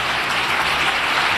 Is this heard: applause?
yes